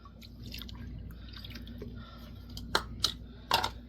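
Sugar and milk pour into a mixing bowl for a peach cobbler batter, making a soft trickling sound under low background hum, followed by a few sharp, close drips and splashes.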